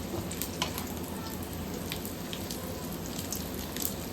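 Fish frying in hot cooking oil, a steady dense sizzle and crackle with scattered sharp pops, close and continuous with no voices.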